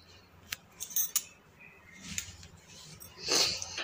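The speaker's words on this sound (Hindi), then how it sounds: "प्याज को हम अभी काट लेंगे, इस तरह से बड़े बड़े टुकड़े में काट लेंगे" A knife cuts an onion into rough large chunks on a board, producing a few sharp, close clicks followed by softer scraping and thudding sounds.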